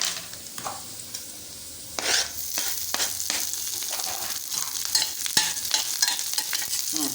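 Finely chopped curry leaves crackle and sizzle in hot oil alongside green chillies while making a spiced poha snack, a steady close frying hiss with sharp spatula scrapes and stirs, no talking.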